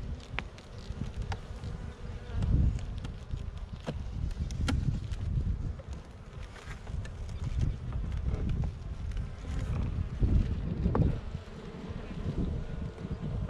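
Honeybees buzz continuously around an open hive during an inspection, a dense droning hum close to the microphone with occasional bees passing nearer, some light wind noise and faint handling.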